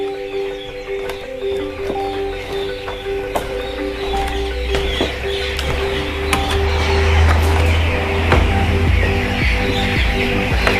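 Chicks or young chickens chirping inside a poultry coop, a dense continuous chorus of small peeps with a steady low hum underneath, close and fairly loud throughout.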